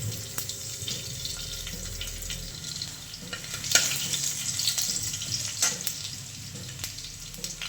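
Mustard seeds, cumin and garlic frying in hot oil in a home kitchen, a steady close sizzle and crackle with a few sharp spatter pops and light stirring throughout.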